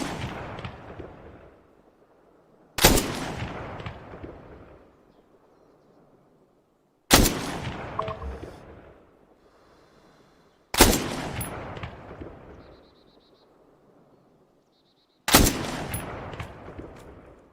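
Gunfire in the military shooter Arma 3: five loud, sharp single shots spaced a few seconds apart, each ringing out with a long echoing decay across open terrain.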